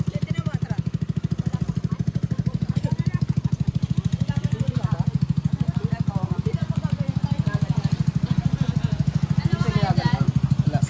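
An ATV engine runs at a campsite in Norzagaray, Bulacan, with a steady pulsing putter throughout while people talk and laugh over it.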